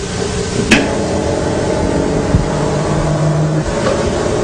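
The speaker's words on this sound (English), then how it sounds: "the motor will start running" An electric motor in a magnetic generator setup runs with a steady low mechanical hum, marked by a couple of sharp clicks and a brief tonal whine partway through, close and moderately loud with no talking.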